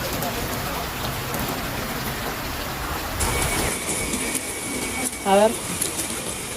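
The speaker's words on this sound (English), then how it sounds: "the rain continued to fall, though now more gently" Rain keeps falling over a flooded city, a steady hiss with a brief tonal chirp near the end, moderately loud and without voices.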